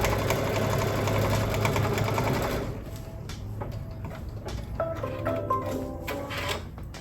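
A Brother ScanNCut embroidery machine stitches an applique design with a loud, steady, rapid mechanical whir for about three seconds, then stops, leaving quieter intermittent clicks and taps.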